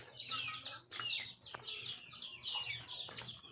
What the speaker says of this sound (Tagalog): ito yung mga manok na hulo